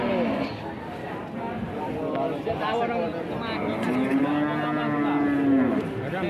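Cattle mooing at an Indonesian livestock market, several long low calls rising over a crowded murmur of voices and background bustle.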